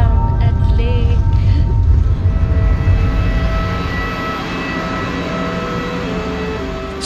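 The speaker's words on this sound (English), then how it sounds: "Throughout the flight, you'll get magnificent views while sitting inside a flying Airbus. Touchdown at Lake." Airbus airliner touching down at Leh in Ladakh, heard from inside the cabin as a loud, steady engine and rolling roar that eases off slightly after the landing.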